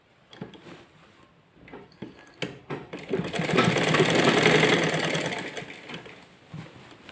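A sewing machine stitches a seam on a salwar, starting with a few separate ticks and clicks. It then runs into a steady, close, rattling whir that swells and slowly fades, with no talking.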